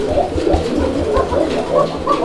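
A Bombay pigeon cooing, a series of soft low throaty coos repeating close by, with no talk over it.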